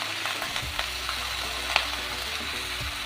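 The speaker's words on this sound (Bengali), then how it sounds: "এবার এই শাকটা ভালো করে আমি নেড়ে নেব।" Malabar spinach curry, seasoned with Kashmiri chili powder, salt and sugar, being stirred in a frying pan, with a steady sizzle and a few scraping utensil strokes across about three seconds, no talking.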